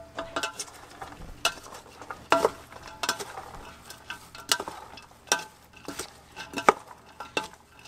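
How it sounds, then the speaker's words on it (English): Slaw being stirred in a pot gives a run of repeated scraping clinks and knocks of a utensil against the pot, irregular but steady, close and fairly clear, with a soft sizzle-like wash underneath. "we'll give this a quick stir on this."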